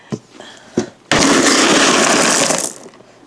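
LECA clay pebbles pour from a container in a loud, sustained rattling rush lasting about a second and a half, preceded by a few sharp knocks as the container is handled, close by.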